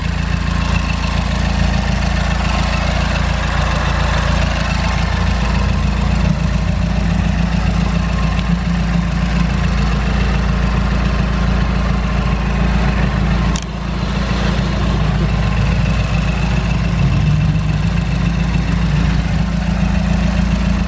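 A MazdaSpeed 3 with a newly installed TreadStone front-mounted intercooler idles steadily up close, its deep, even engine drone running the whole time with one brief dip partway through.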